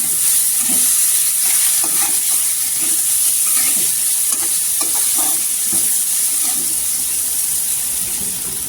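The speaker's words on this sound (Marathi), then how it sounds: "धना पावडर अर्धी चमचा आणि घरचा तिखट लाल 1 चमचा। पूर्णपणे असं परतून घ्यायचं।" Coriander powder and homemade red chilli powder being sautéed in a pan for spicy dal batata amti, a steady close sizzle with occasional spoon stirs and scrapes, no voices.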